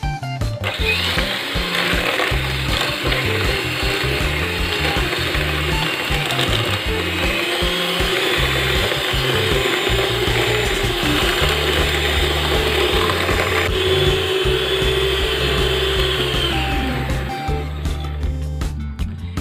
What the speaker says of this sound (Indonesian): Ini saya mixer selama 8 menit kecepatan tinggi